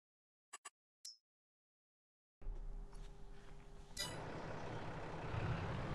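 A truck in Farming Simulator 22 starting up and driving off: after a few short blips and silence, a steady engine rumble rises, then a sharp hiss like an air brake release before the engine noise continues, loud and close.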